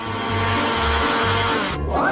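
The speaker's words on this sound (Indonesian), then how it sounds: "Aku akan melakukannya dengan cepat menggunakan mixer tangan ini." An electric hand mixer whirs through a cucumber batter of grated cucumber and egg, a steady motor drone pulsing in short rhythmic surges, close and fairly loud.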